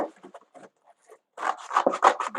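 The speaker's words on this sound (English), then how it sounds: "You're just going to go right in there with your scissors" Scissors snipping into a cereal box cardboard for a collagraph printing plate, a few faint rubbing cuts at first, then a denser run of louder crisp cutting crunches close up, no talking.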